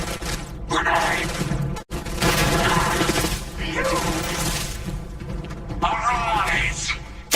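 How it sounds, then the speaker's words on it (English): A grenade explodes and gunfire crackles during a firefight in the Starfield video game, with dense, continuous combat noise and voices talking over the chaos. "Grenade."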